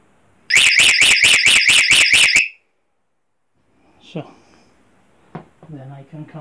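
An electronic alarm beeps in a rapid series of about eight loud, high-pitched pulses, then stops; a few quiet clicks and a brief voice follow.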